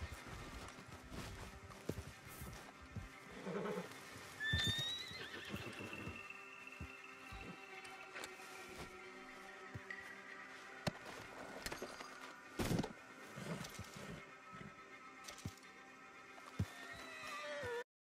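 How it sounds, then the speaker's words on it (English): A mangy horse in the video game Red Dead Redemption 2 gives a clear whinny, alongside scattered hoof clip-clops and shuffling movement over a quiet outdoor backdrop. "Now, their horse is a little mangy looking, but, you know, I'll calm it down"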